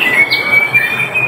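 A white-rumped shama (murai batu) songbird at a bird-singing contest gives a thin, sustained high whistle with a short squawky note, brief and fairly loud over light background noise.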